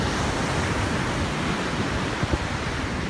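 Steady wind blowing at a beach in April, a dense, even rush that blends with the roar of surf and buffets the microphone, with no voices.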